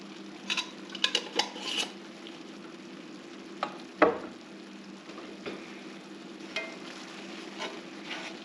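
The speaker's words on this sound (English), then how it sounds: "just because Dean and I love garlic, I'm going to add a little garlic in there" Garlic sizzles in fat in a pan alongside home-canned meat, a soft steady frying hiss broken by several sharp clinks of a utensil against the pan, with no talk.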